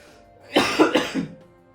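A few quick coughs in a short burst, close and fairly loud, with a quiet room behind.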